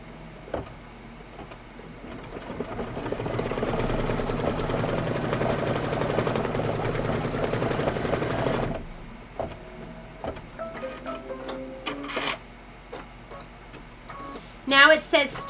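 An embroidery machine stitches a beard basting outline for a quilted table topper, a steady mechanical whir lasting several seconds before stopping, followed by scattered handling clicks and rustles.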